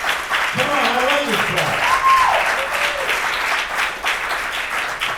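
An audience at a motivational speech claps its hands in a sustained, dense wash of applause, with a voice speaking over the crowd and a brief tonal sweep riding above it.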